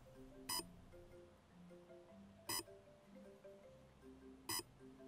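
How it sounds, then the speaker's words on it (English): Startup beeps from an Arduino-based open-source electronic speed controller for a motor: three short bright beeps at steady two-second intervals over a low, warbling electronic tone pattern, moderately faint. "if throttle is minimum, the ESC will start in normal mode, and you will hear the welcome beeps."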